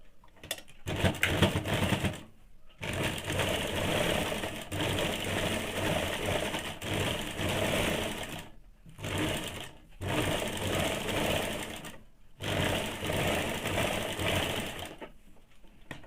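A sewing machine runs in long steady bursts while stitching a two-piece high-neck blouse, its rapid whirring needle beat close and loud, broken by several short pauses between seams.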